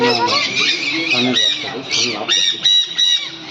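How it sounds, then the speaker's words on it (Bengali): Several conure parrots squawking at a park aviary, shrill harsh calls repeating in irregular bursts, close and loud, with some overlapping chatter. "এটা কি পাখি শান কনুর সবগুলো না এগুলো এমনি কনুর"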